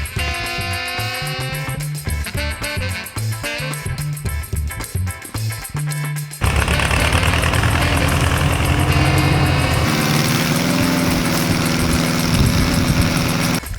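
A 1962 farm tractor engine runs loud and steady, a rough continuous rumble. It takes over midway after a stretch of tonal, music-like sound.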